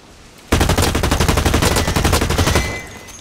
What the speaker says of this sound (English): Oh shit, that's a shotgun.